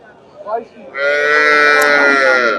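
A brief vocal sound, then a crossbred dairy cow lets out a long, loud, sustained moo close by at a cattle market.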